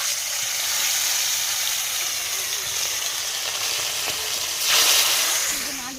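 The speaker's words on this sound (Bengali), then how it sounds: "তো চলো এই মাছগুলো ভেজে নিই" Fish sizzling and frying in a pan, a dense continuous hiss and crackle throughout that swells briefly louder near the end; no talking.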